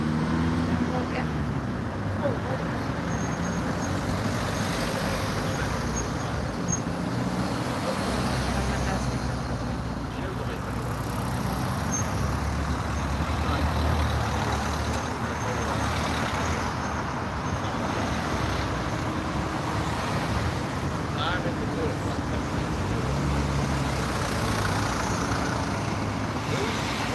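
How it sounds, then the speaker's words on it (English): Heavy road traffic rumbles steadily and continuously at a busy intersection, passing vehicles blending into a loud, unbroken roar with faint voices mixed in. "Whole lot of traffic."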